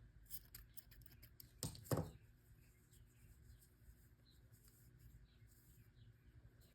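Scissors snip crochet yarn after a slip stitch: two quick, crisp cuts in close succession, faint and close in a quiet room, with light handling noises around them.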